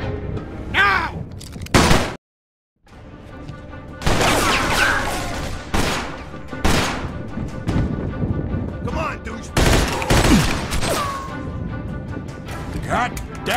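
Mafia II gunfire rings out in bursts of sharp, loud shots, broken by a brief silence, with voices speaking between and over the volleys.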